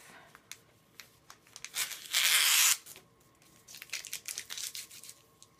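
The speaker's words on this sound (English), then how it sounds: "And I'm going to take my tape off." A strip of tape is peeled away from paper in one brief, close ripping sound, surrounded by soft crinkles and rustles of handling, with no speech.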